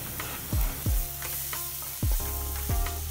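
Tomatoes drop into onions frying with ginger-garlic paste and salt for boiled egg bhurji, a loud sizzle flaring in several bursts as pieces hit the hot pan, then a steady crackle with no speech.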